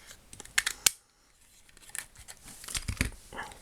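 Scissors snip through paper to trim a small printed image of a gnome for a scrapbook camera embellishment, a few sharp crisp cuts close by, then a quiet pause and softer crinkling handling.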